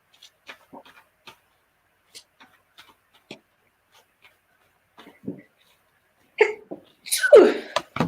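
One sharp, sudden sneeze bursts out near the end after a stretch of quiet with scattered small taps and clicks, and a voice follows right after it.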